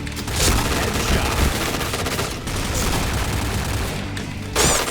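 Rapid HK417 rifle fire in the video game Point Blank rattles loudly and continuously in a dense burst, with a brief gap and a final sharp shot near the end.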